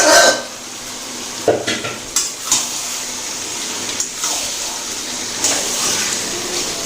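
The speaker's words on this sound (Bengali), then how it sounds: "তো এবার আমি যে ম্যারিনেট করা মাংসটা ছিল সেটা দিয়ে দেবো" Marinated chicken drops into a hot pan for a Bengali dak bungalow chicken curry, with a steady sizzle and several sharp scraping stir strokes against the pan, close and fairly loud, no talking.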